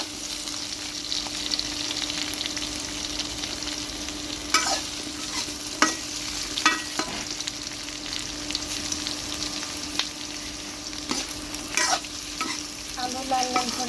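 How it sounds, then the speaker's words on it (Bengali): Potatoes frying in a pan with a steady hiss, broken every few seconds by the clatter and scrape of a spatula stirring them, close up with no voices. "একটু পর পর আলু নেড়ে দিতে হবে"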